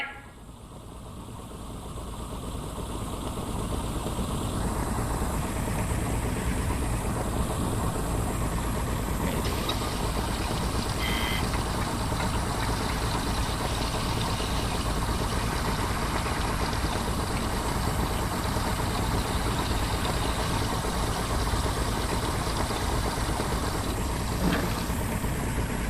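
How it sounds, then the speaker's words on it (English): Engine running in the video game I Expect You To Die, a steady low mechanical hum and rumble that holds at an even level throughout, with faint clicks and no speech. "Engine running."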